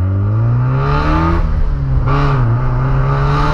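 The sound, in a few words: Mazda MX5 Miata engine revving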